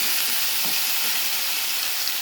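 Onions and potatoes fry in a pan, giving a steady, close sizzle with light stirring scrapes running throughout.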